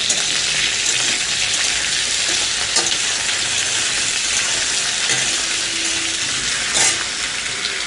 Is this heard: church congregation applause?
no